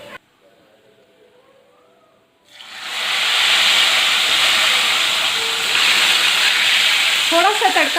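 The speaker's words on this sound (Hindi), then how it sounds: "तड़का हमारा तैयार हो चुका है। इसको अब कड़ी में शामिल करते हैं।" Hot tempering of oil, red chillies and cumin is poured into Punjabi pakora kadhi, bursting after a quiet moment into a loud, sustained steamy hiss and sizzle up close.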